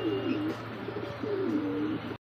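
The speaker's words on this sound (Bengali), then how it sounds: "দর্শক দেখতে পাচ্ছেন সিঙ্গেল একটা মডার্ন একটা কবুতর" A single Modern pigeon cooing up close, two rolling, throaty coos in quick succession over a low background hum, ending abruptly.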